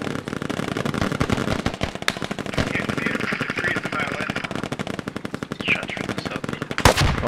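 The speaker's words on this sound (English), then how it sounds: "Those 249s are rolling out bullets." M249 light machine guns in the tactical shooter Squad fire long, continuous bursts of rapid rattling shots, loud and close throughout, with a few sharper cracks standing out near the end.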